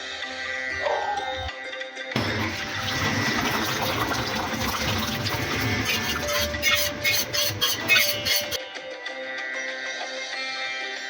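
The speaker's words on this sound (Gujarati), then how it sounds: "પછી એક સાફ કપડું લઈને પનીરમાંથી પાણી કાઢી લેવું" Whey drains from lemon-curdled paneer through a clean cloth. A steady gushing pour of liquid runs for about six seconds, then stops abruptly.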